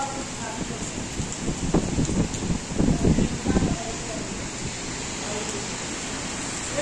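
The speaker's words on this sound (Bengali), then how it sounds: "অনেক বৃষ্টি সৌদি আরবে" Heavy rain falls in Saudi Arabia as a steady, broad hiss of water. A denser rumbling swell rises midway, and faint voices may be mixed in.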